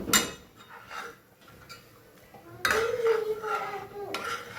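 A spoon scrapes and clinks against a pot while boiled bottle gourd and chana dal are mixed into a cooked masala, with intermittent knocks and a brief ringing metallic scrape, moderately quiet with pauses between strokes.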